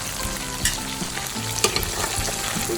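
Holy basil leaves stir-fried with shallots in a hot pan give a steady, close sizzle, broken by a few sharp clinks and scrapes of a spatula against the pan.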